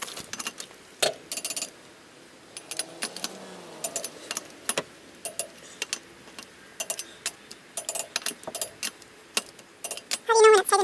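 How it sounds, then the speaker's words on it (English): A torque wrench clicks repeatedly in sharp ticks as a car wheel is tightened, with metallic rattles and close handling noise. "this torque wrench will click. So every time it does that, that's torqued."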